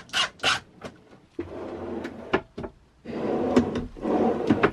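A wooden drawer is slid and knocked onto its slide track during a van build, giving a series of sharp clunks, scrapes and rattles up close with bursts of handling noise.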